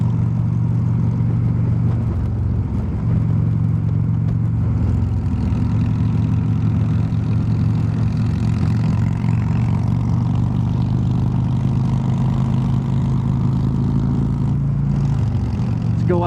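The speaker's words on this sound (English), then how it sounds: "Get on the old freeway here and throttle down." A 2015 Harley-Davidson Road Glide motorcycle cruises on a freeway with a loud, steady low engine drone and rushing wind, the pitch shifting slightly as the throttle changes.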